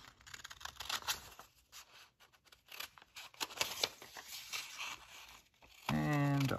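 Scissors trim a paper postcard section at close range with a series of crisp snipping cuts and light paper rustling, while a person talks alongside.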